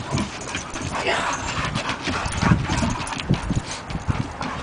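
Dogs play around near the microphone, with scuffling, panting and paw clatter over continuous rustling noise, while people talk intermittently.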